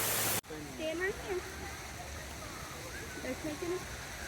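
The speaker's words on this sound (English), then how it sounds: "the waterfall heads up this direction" A waterfall near a river bridge in San Antonio, Texas, at sunset, a steady broad rush of falling water beneath a voice talking and faint background sounds.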